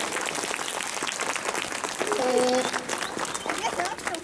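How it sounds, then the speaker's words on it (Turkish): A primary school award ceremony audience claps steadily, a fairly loud wash of many hands, with a voice speaking over parts of it. "Bu yüzden bir kez daha alkışlayalım Elif'i."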